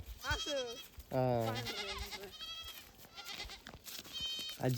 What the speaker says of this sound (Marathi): तर मग रोहित तुला या बकऱ्या आवडल्यात का घेऊन जायच्या